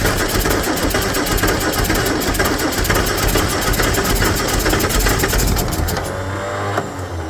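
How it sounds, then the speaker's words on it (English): A Triumph TR4 engine is cranked with the starter, giving a rapid rhythmic churning. It stays loud and close throughout before the cranking stops and the sound drops away near the end. "keep cranking until I say stop."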